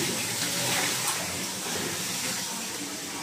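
Water pours steadily into a container as a soap test is set up, a continuous close splashing gush filling the whole stretch with no pauses.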